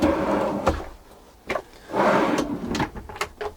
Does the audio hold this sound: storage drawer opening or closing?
yes